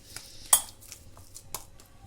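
An iron tawa griddle clanks down once with a sharp metallic knock, followed by a few lighter scrapes and taps as it is greased with oil, close and without talk.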